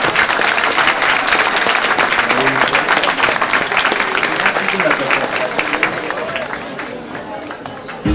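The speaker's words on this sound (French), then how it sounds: "on fait un petit applaudissement pour Lou, pas trop fort" A crowd at an evening singing show applauds loudly and densely for a young performer, with murmuring voices mixed in and the clapping fading slightly toward the end.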